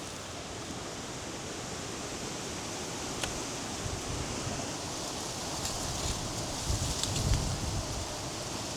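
Steady broadband wind at a roadside creek during bait fishing, a continuous close rush that swells a little louder toward the end with a few brief gusty bursts, no voices.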